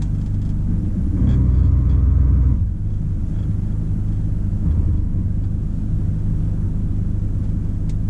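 Chevrolet S10 Z71 pickup creeping downhill under electronic hill descent control, a low steady engine rumble with a brief louder surge early on, heard from inside the cab with no talking.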